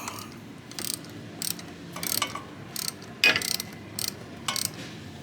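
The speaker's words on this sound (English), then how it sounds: "I'm going to put this little bolt in there to secure it" Ratchet tightening a small bolt on a BMW F800GT heat exchanger, a series of close, crisp ratcheting bursts in short irregular strokes, about eight in total with brief pauses between them, no talk.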